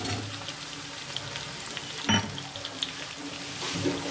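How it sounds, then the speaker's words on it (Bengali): Chopped onion and potato fry together in a pan, giving a continuous low sizzle with scattered light clicks and one sharp clatter midway, heard close and alone. "দিয়ে সঙ্গে আবার একটু ভালো করে এটা পেঁয়াজটাও ভাজা হয়ে যাবে, আলুটা অনেকটা ভাজা হয়ে যাচ্ছে।"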